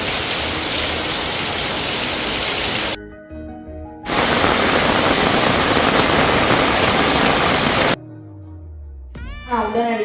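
Heavy rain pours down in two long, dense stretches, loud and hissing, broken by short quieter gaps where tonal, voice-like sounds come through.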